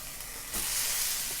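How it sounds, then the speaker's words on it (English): A pork chop, cooked sous vide, is seared briefly in a hot pan and gives a sudden loud burst of steady hissing sizzle that swells up partway through and keeps going. "we're going to do a very quick sizzle up of this pork"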